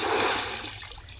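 A short, close splash of water as someone ducks into a clear village pond in Hasnabad, a single wash of sound fading within a second.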